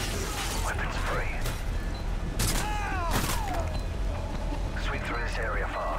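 Gunfire in the shooter game Call of Duty: Modern Warfare 3 during a night raid, sharp shots and weapon clatter over a constant hum, with in-game voices speaking between them.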